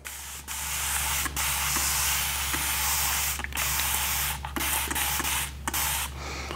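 Repeated hissing sprays from a spray bottle onto the back of paper for a ceramic image transfer, several bursts in a row separated by short pauses, fairly close and clear.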